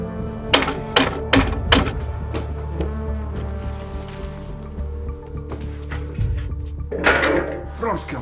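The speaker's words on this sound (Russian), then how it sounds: "шандарахнуть молотком и желательно не один раз" Several sharp heavy hammer blows land in quick succession, then a few more spaced knocks and clatter, close and loud over a low hum.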